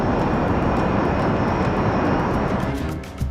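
A Learjet in flight drones with a loud, steady engine roar that carries through a broad rumbling wash, easing slightly near the end, with no voices present.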